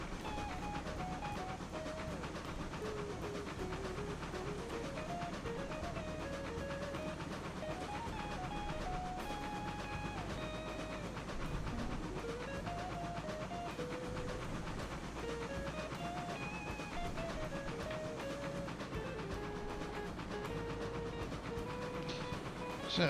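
A steam locomotive, the Eureka, in the RailRoads Online game, pulling a heavy train with its cylinder cocks open. A continuous loud hiss of steam runs under steady rolling rail noise and rhythmic engine sound throughout.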